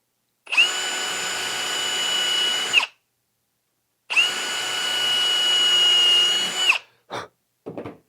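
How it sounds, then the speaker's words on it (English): A power drill widens a pilot hole with a 3/32 bit in stash wood for a wall cabinet hinge, running in two steady bursts of about two and a half seconds each, close and loud, then a couple of short blips at the end. "open it up a little bit with the 3/32 bit"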